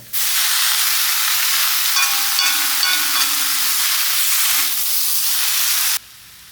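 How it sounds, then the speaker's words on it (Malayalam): Mushroom masala curry with potato pieces fried and stirred in a hot pan; a loud, dense, steady sizzle runs unbroken for about six seconds with faint scraping, then cuts off abruptly. "ഇത് നന്നാക്കി ഇളക്കി മസാലകളൊക്കെ എല്ലാം ഒന്ന് ചേരട്ടെ"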